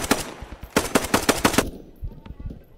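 Rapid volleys of rifle gunfire in the World War II shooter Post Scriptum, with sharp cracks that bunch into bursts, loud and close, ending in faint distant shots.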